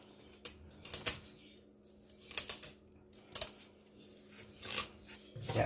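Kitchen scissors snip the fins off a fish being cleaned for drying. The cuts come as a series of quiet, sharp, crisp snips spaced about a second apart, close by and alone.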